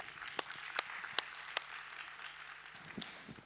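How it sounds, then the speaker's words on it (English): Light scattered applause from a modest summit audience, with a few sharp individual claps standing out over a soft continuous patter. "Round of applause for my panel members,"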